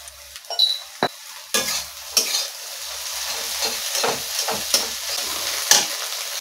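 An egg sizzles and spits in hot oil with a pinch of turmeric, a steady frying hiss broken by several sharp scrapes and clinks of a spatula against the pan, close and with no talking.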